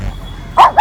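A dog gives two short, close barks in quick succession at a dog park, loud and sharp after a brief quiet moment.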